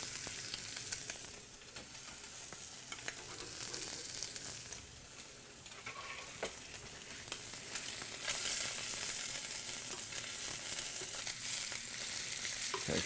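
Asparagus pieces fry in a hot pan with a constant close sizzle. A few soft stirring clicks sound over it, and the hiss grows a little louder toward the end. No talking.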